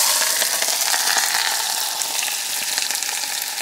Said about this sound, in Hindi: तो अभी हम डालते हैं इसमें तड़का अपना